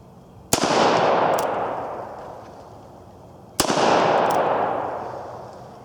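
Two loud, sharp revolver shots from a Colt, about three seconds apart, each followed by a long rolling echo, with faint distant metallic pings from a steel plate at 50 yards.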